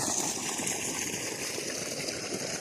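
Irrigation water flows steadily through a channel on a date farm in Oman, a constant soft rushing wash with no breaks, fairly quiet and alone.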